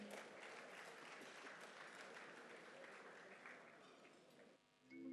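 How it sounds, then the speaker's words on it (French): Audience at an awards ceremony claps steadily and fairly loudly for about four and a half seconds, then the sustained applause fades and thins out toward the end. "l'illustrissime Bamba Alex Suleiman sous vos applaudissements."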